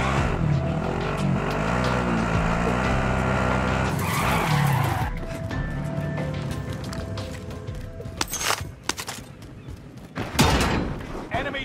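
Car engine revving and tires skidding in Call of Duty Warzone, loud and close for the first few seconds, then fading into quieter driving with sharp impacts and a robotic in-game voice over it.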